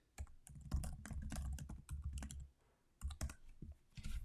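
Computer keyboard typing in bursts of rapid clicks, close and fairly quiet, pausing briefly before resuming.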